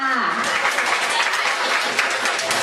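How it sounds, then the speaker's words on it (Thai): An audience at a university event applauds a teacher, a steady, dense wash of clapping that holds evenly from start to finish. "ขอเสียงปรบมือให้อาจารย์ด้วยค่ะ"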